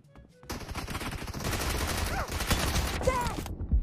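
Video game gunfire crackles in a dense, rapid fusillade lasting about three seconds after a brief quiet start, with faint voices barely present beneath the shots.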